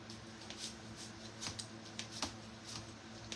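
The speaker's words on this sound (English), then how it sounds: "until we have all of our onion chopped" A kitchen knife chops an onion on a cutting board, producing a series of quiet, crisp taps at an uneven rhythm, close and faint with no talk.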